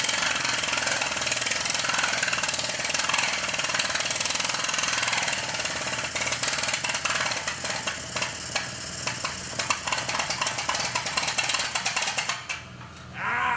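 Rapid, steady metallic hammering of a planishing hammer on sheet metal, a dense machine-driven clatter that runs continuously at close range before cutting off near the end.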